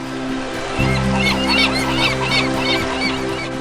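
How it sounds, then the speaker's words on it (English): Geese honking in an animated children's story set on a riverbank, a flock of repeated nasal honks over a steady low music-like drone, moderately close and continuous. "A young tortoise was lazing around the riverbank, looking at the birds flying in the sky."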